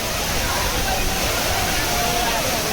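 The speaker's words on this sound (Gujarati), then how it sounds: "બરો ઉપરથી આવી રહ્યો છે ધોધ" Medha waterfall pouring down from above, a loud constant rushing roar filling the short clip, with faint voices of a group mixed into the noise.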